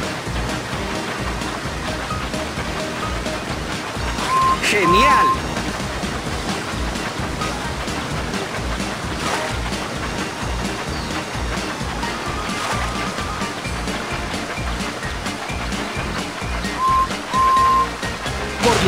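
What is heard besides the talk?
rushing water of a mountain water slide in a Thomas video game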